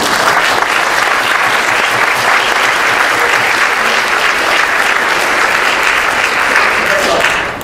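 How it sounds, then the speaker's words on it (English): Audience applause at a state senate candidate forum, a dense, loud, sustained clapping from a full room lasting several seconds before tapering at the end. "let's give them a round of applause"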